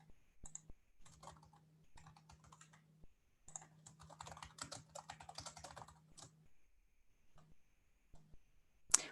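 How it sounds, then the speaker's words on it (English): Contact information is typed on a computer keyboard: quiet, rapid, uneven key clicks in bursts with brief pauses, over a faint low electrical hum. "type in the contact information for the one-time addressee."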